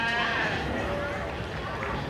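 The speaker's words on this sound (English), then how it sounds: "there's a constant sound of sheep, cattle, aeroplanes and people" Sheep bleating in the sheep ring at the Royal Highland Show, a large agricultural show in Scotland, with short wavering bleats over a busy crowd hum and people talking nearby.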